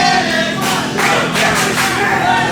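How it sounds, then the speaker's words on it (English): A loud crowd roars and cheers at a live wrestling event, a continuous swelling din close and full throughout the short stretch. "Listen to the crowd now."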